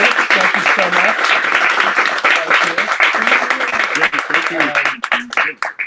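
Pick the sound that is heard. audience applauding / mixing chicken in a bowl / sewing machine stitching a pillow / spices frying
audience applauding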